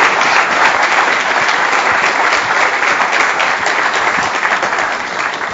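A large lecture audience claps steadily for a distinguished guest speaker, a dense, loud wash of applause that holds for several seconds without a break and eases slightly near the end.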